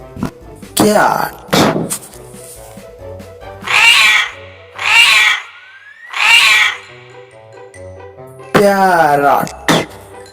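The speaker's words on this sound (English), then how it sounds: "cat," A cat meows several times, drawn-out loud mewing calls with pauses between them, mixed with a few short thumps and a brief voice-like sound at the start.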